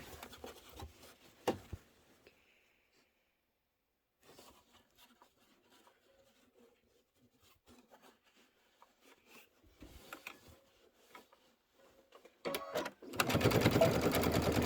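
Sewing machine stitches a Kimberbell pillow in brief bursts, mostly faint with long quiet gaps, then runs loud and continuously in a steady whirring stitch at the close.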